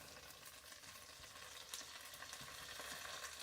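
Defrosted food fries in a pan with a steady crackling sizzle, slightly louder toward the end, close and without talk.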